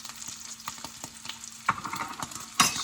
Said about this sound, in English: Just let the sausage sizzle up one by one.